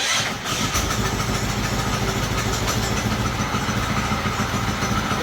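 A 212 Powerpack go-kart engine, choked, rumbles into life and then settles into a steady, close, loud idle with a constant chugging drone.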